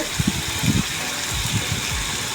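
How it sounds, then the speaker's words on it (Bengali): Water gushes into a hot pan of pangas fish curry with a brief burbling splash, close and fairly loud over a steady hiss. "এখন আমি এর ভিতরে পরিমাণ মতন পানি দিয়ে দিচ্ছি"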